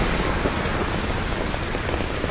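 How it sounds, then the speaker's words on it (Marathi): Torrential rain pours down on a street in Viman Nagar, Pune, a dense, unbroken hiss of drops hitting the ground and surfaces nearby, with no voices. "एवढा पाऊस"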